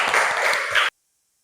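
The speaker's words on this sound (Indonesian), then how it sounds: "Ya, tepuk tangan anak-anak." Children clapping together in a classroom, a burst of mixed applause that lasts under a second and then cuts off into silence.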